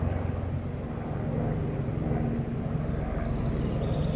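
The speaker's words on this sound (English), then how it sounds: "We'll wait for the choppers to be finished." Helicopters flying overhead make a steady low rumbling drone that holds at an even level throughout, with no one speaking.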